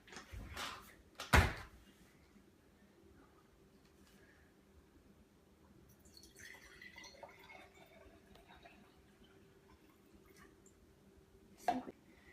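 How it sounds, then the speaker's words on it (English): Water pours into a jar for a few seconds with a soft, trickling hiss, framed by a couple of sharp knocks before and after. "Then in the water jar, I'm going to pour water."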